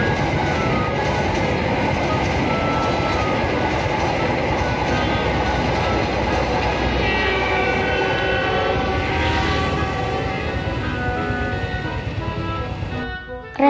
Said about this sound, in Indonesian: Kereta api Prambanan Ekspres dari Kutoarjo ke Yogyakarta.